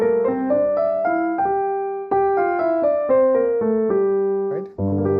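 A G Dorian scale played on piano, a stepwise run of single notes rising and then descending, ending on a low chord, clear and close with no voices.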